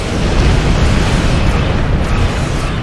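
A massive, sustained roaring blast of a spaceship explosion in the video game Star Trek Online fills the space, dense and loud throughout, rumbling without pause.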